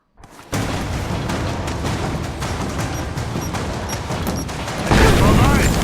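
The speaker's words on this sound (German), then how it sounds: "Blöde Granaten, was ich da gegen schiesse." Grenade explosions and dense combat noise from Rise of the Tomb Raider build into a continuous loud roar of blasts and debris that swells sharply near the end, with no clear gaps between bursts.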